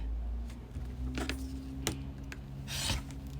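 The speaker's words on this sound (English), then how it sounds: "So let me trim this side." A blade trims the edge of a quilt block made from vintage fabrics, giving a few faint scraping cuts over a steady low room hum.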